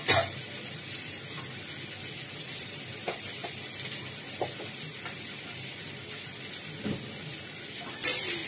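Potatoes fry with red chili powder in a pan for Bengali dum aloo. A steady sizzle runs under occasional scraping and stirring knocks of a utensil, with a louder clatter near the start and end.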